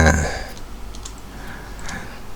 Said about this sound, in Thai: ผมกด Enter นะครับ